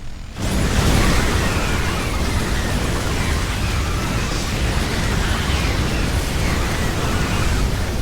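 A StarCraft II battle of 80 Zerglings against 20 hellions erupts as a dense, loud, continuous roar of fire bursts and combat noise that holds steady throughout, with no voices.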